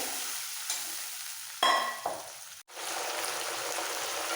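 Spice paste of ground cumin and ginger frying with a splash of water for radish ghonto, a soft steady sizzle broken by a sudden sharp hiss and a clink of stirring near the middle.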